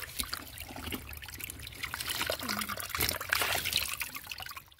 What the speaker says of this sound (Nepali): पानीको मुहान